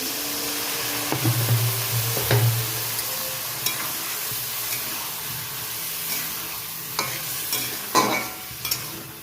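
Spice paste with cumin powder and a splash of water being stirred and sautéed in a pan, a continuous soft sizzle broken by scraping spatula strokes and a few sharper clinks.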